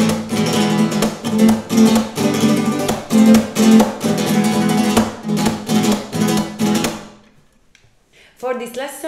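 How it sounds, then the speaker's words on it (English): A guitar plays the flamenco triplet (abanico) with added percussive hits, giving a strumming feel: loud, rhythmic bursts of chords with accented pulses for about seven seconds, then near silence and a short final strum. "how to add hits to the flamenco triplet so it will sound like a strumming technique"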